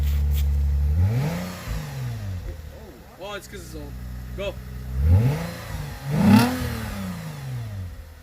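A Lexus IS250 with an Invidia Q300 exhaust revs close by in several deep swells, rising and falling, with a couple of sharp blips in between, while people talk over it.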